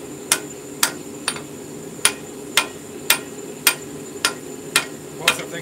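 A blacksmith hammering hot steel while forging a bottom fuller, with about a dozen sharp, ringing strikes at a steady, even rhythm, close and clear over a low background hum, with no talk.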